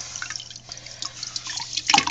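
Aragonite sand is stirred through water in a sump tank, giving irregular sloshing and trickling splashes at close range, with a steady low hum underneath and a louder splash at the end.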